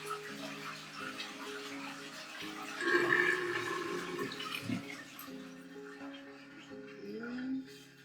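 Water gurgles and rushes down a bathtub drain in a newly finished renovated bathroom, a swirling, sloshing flow with tonal burbling that swells toward the end, and a voice murmurs faintly beneath it.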